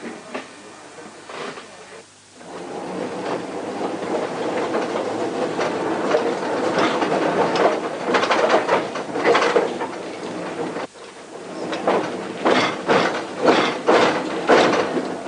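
Small tramcars run through the streets of Verviers, Belgium, rumbling and clattering close by with rhythmic rail clicks that swell and fade, no talk over them.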